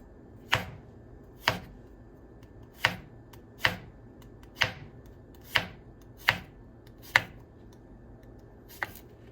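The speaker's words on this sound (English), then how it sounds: "all we really want to do on these is just want to roughly chop them up" A chef's knife roughly chops onions on a board in sharp, evenly spaced thuds, about ten cuts at a slow, steady pace, close and clear against quiet surroundings.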